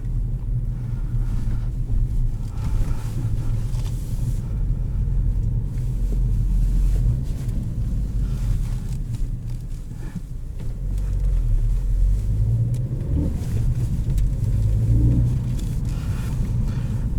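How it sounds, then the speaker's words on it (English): Engine and intake noise from a 2017 Ford Focus ST with 252 horsepower, heard from inside while driving as a steady low rumble with mild wind noise and gentle swells in level, no talking. "Pretty unique system, as it's actually the intake noise."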